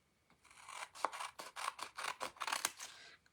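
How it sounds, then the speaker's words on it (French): Scissors snip through a piece of card in a quick run of about ten crisp cuts, close and fairly quiet, with no talking. "je vais venir découper un morceau"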